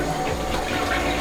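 A Japanese toilet with a hand-wash basin on top flushes and refills, a loud, close rush of water running steadily through the whole short stretch.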